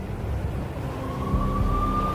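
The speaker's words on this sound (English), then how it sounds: "I could hear the sirens. Their wail was a crescendo." Police sirens in the Max Payne video game, a steady rising wail that grows slightly louder over a low rumbling city ambience.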